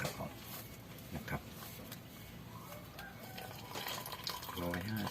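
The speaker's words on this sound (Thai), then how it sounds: "น้ำร้อนก็ร้อยห้าสิบมล" Hot water poured into a cup while making a rich cocoa or Ovaltine milk drink, a faint steady splash and trickle under quiet background noise, with a voice speaking Thai.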